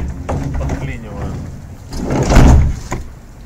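Sliding side door of a Volkswagen T4 van with worn rollers being pulled shut, a rolling scrape building to a loud heavy thud near the end, close by.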